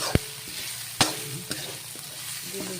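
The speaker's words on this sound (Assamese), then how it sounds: "দি লৈ পেলাই নহৰুটো অকণমান এনেকৈ লৰাই দিলোঁ" Garlic sizzles in hot oil in a pan, with three sharp clinks of a spatula or spoon against the pan as it gets stirred over a constant close frying hiss.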